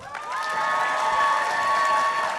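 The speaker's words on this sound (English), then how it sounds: "can you give a huge round of applause?" Audience applause and cheering at an anime voice actors panel at a Tampa convention, a steady, loud wash of clapping with a few whoops and sustained crowd cheering throughout.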